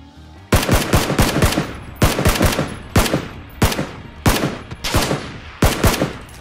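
Bursts of gunfire in the PUBG battle royale game strike an enemy's helmet, a rapid series of loud, sharp cracks in uneven clusters, close and alone with no voices.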